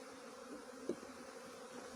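A soft, steady buzz of honey bees humming together close by inside an open hive, with no voices.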